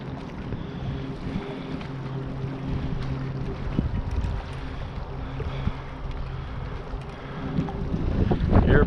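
Strong gusty wind roars across the microphone while crappie fishing on the water, a steady low rumble with rising buffets and louder gusts toward the end, no talking.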